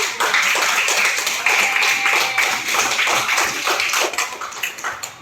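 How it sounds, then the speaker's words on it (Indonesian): Children clap their hands together in a classroom, a loud, close burst of many claps in a loose, uneven rhythm that carries on for several seconds before tapering off. "Tepuk tangannya dulu lah."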